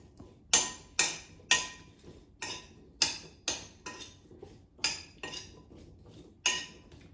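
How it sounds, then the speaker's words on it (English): Chopped potatoes tossed with oil and seasonings in a bowl for air-frying give about a dozen sharp clinks and knocks, close and clear, spaced at irregular half-second intervals with short ringing tails. "now toss the potatoes so they're coated evenly with oil and seasonings"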